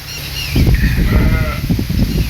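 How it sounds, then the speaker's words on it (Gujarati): Sheep and goats bleat close by, several overlapping calls in a quick, uneven series over a steady background of wind. "બાજુમાં ગાડરા અને ઘેટા બકરા"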